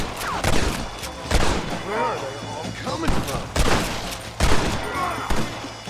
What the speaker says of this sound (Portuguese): Tô tomando muito tiro do cara que tá lá em cima